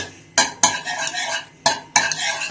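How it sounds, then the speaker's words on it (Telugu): Small cheese pieces for kunafa are stirred in a pan, giving four sharp scraping strokes of a utensil against the metal in an uneven rhythm, close and clear. "ఇప్పుడు చీజ్ యాడ్ చేస్తున్నాము స్మాల్ పీసెస్ గా. ఇలా బాగా మిక్స్ చేసుకోవాలి."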